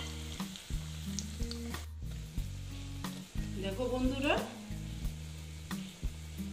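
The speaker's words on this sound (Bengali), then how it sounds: "ব্রেডগুলো আবার যে কটা বাকি ছিল সেই কটা আবার দিয়ে দিচ্ছি। আবার এইভাবে ভেজে নেব।" Bread slices frying in hot oil, a loud continuous close sizzle with a few spatula clicks and a brief swell of crackling, while someone speaks briefly over it.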